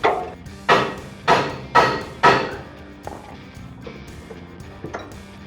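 A front-end suspension part on a Ford E-350 van is tapped into place during a 5-inch lift install: five sharp metallic knocks in quick succession, then several fainter taps, close by and without talk.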